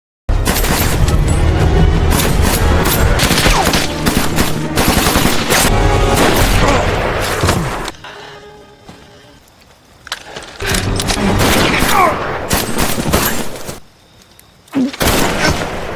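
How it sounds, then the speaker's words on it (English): Gunfire crashes through a dense, loud action-film soundtrack: sustained bursts of shots and booms for about eight seconds, a quieter lull, then more loud bursts returning toward the end. "There was a gunfight between them."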